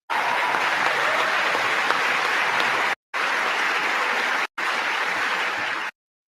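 Sustained, dense clapping from a large audience fills the space loudly, broken twice by abrupt cuts before resuming at full strength, then ending sharply.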